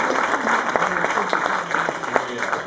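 Theater audience applauding performers at a pre-show, a dense, steady wash of many hands clapping throughout, fairly loud and continuous.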